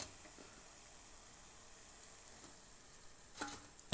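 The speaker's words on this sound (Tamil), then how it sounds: "பொறிஞ்சு கொண்டிருக்கு முறுக்கு இப்படியே பொறிஞ்சு கொண்டிருக்குது" Murukku fries in hot oil with a soft, steady sizzle and hiss, quiet and close, broken by a few faint clinks near the end.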